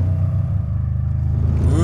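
JDM Subaru Legacy twin turbo under hard acceleration, a loud, close engine drone that holds steady and then climbs in pitch near the end, with no talking.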